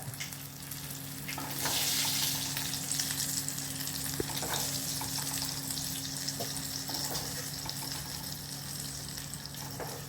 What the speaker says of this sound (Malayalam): നമുക്കിതിലേക്ക് കടുക് താളിച്ചിടാം.